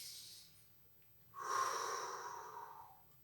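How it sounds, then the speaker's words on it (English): One slow, audible breath drawn in close to the microphone, a soft airy rush that swells and holds for about two seconds with no talking. "take a breath in"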